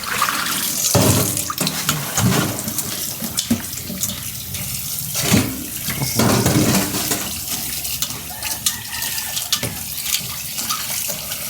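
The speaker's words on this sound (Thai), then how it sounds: "หยวกกล้วยมาล้างก่อนนะคะ" Salted banana stem pieces are rinsed under a running tap, a loud, continuous gush of water splashing into a sink with shifting splatters as the pieces are handled.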